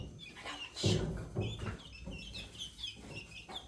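Newly arrived guinea fowl call on a farm with a run of short, rough clucking cries close by, rising and falling over a few seconds with faint chirps between them.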